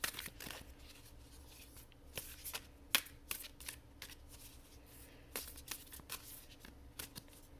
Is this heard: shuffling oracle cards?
yes